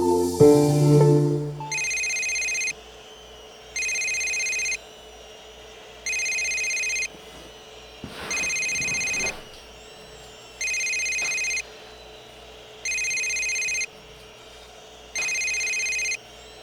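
An electronic telephone ring sounds in regular bursts, about seven evenly spaced trilling rings, each roughly a second long with short pauses between, clear and fairly close. A brief louder noise comes just before the ringing starts.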